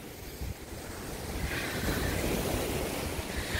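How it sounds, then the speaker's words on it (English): Ocean surf rolls onto the shore of Palm Beach island, a broad steady wash of waves with heavy wind rumbling on the microphone, no voices. "I live by the ocean."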